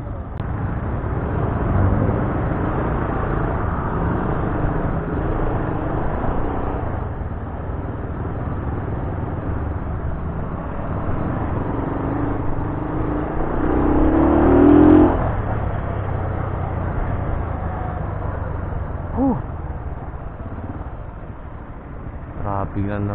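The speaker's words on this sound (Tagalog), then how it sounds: "Grabe naman traffic to." Heavy road traffic crawls through a police checkpoint during lockdown. A continuous low engine rumble and road noise come from inside a vehicle, with a swell of revving near the middle, while people talk throughout.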